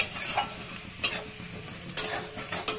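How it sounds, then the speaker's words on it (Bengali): Sliced onions fry in a pan to make crisp beresta, a soft sizzle broken by a few scraping stirs of a spatula, close and fairly quiet, with no talk. "ভেজে যাচ্ছি, আর একটু হবে, তারপরে নামাবো।"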